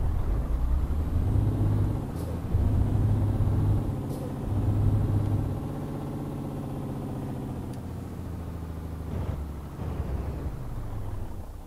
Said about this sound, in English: parking brakes on